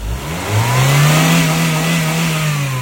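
A well-tuned car engine runs smoothly up close, rising into a steady, sustained hum after a brief rev at the start, with no talking.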